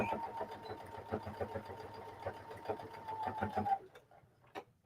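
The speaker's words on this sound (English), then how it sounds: "I'm going to back stitch on top of those deep seams in the center, just so they stay together." A sewing machine back stitches over thick denim patchwork seams made from old blue jeans, running in rapid rhythmic bursts close by, then stopping with a final mechanical click.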